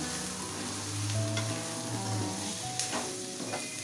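Spices sauté in hot oil for a mutton gravy with a dense, continuous sizzle and crackle. A few light stirring scrapes and clinks come through near the end, and no voices are heard.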